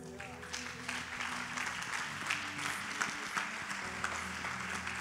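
A church congregation applauding during a Portuguese-language service, a sustained wash of clapping with scattered sharper claps, held at moderate distance over a low background hum.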